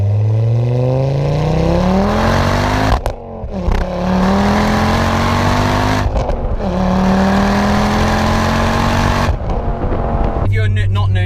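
A tuned 320bhp Ford Focus ST engine revs hard through several gears, pitch climbing then dropping sharply at each shift, loud and close.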